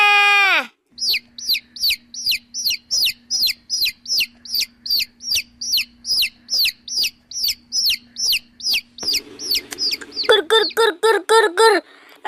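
A large rainbow-colored chicken clucks in a rapid, steady run of loud, close calls. Near the end the clucks grow faster and more excited, with a brief rough squawk.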